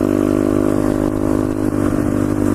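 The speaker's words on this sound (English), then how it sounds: "Pulling some wheelies." A pit bike engine revs hard and steadily while the rider pulls wheelies, a loud, close buzzing drone with slight dips in pitch and no talk over it.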